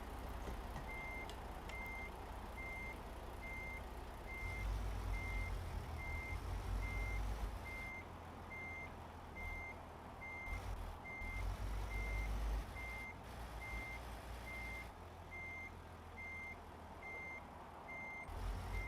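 Regular high-pitched reversing beeps from a truck backing up in American Truck Simulator, evenly spaced over a low steady engine rumble that swells and eases, no talking.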